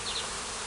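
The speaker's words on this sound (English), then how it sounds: "We've got a few bees getting curious about the entrance to the nuke." Honey bees buzz around the entrance of a nuc hive outdoors, a steady close-up hum with a couple of brief higher-pitched passes.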